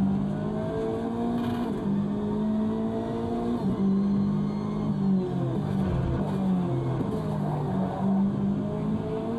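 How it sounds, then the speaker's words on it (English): Race car engines in the Automobilista 2 racing game, a Corvette C8.R practising at Daytona, drone continuously with shifting revs and gear changes as a faster car closes in, its pitch sweeping around the steady engine note. "there's a faster car approaching"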